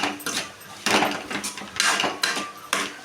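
Chili and coriander powder being stirred in a cooking pan, a spoon scraping and clinking against the metal in repeated loud strokes close by, with no talk.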